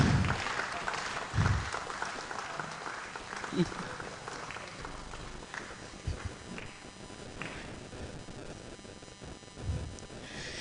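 Applause from a professional conference audience carries on as a steady patter of clapping, with occasional close thumps and a speaking voice over it.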